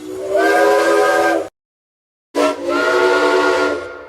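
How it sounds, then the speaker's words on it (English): Two long blasts of a steam locomotive whistle, loud and breathy with a harmonic tone, separated by a short silence. "Ferdinand's whistle has been reused on a random background character"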